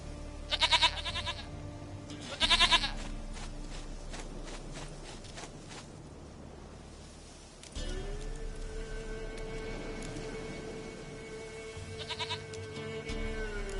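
A goat bleats in the video game The Witcher 3, two loud close bleats early on and a softer one later, over quiet ambience and a sustained tone, with no speech.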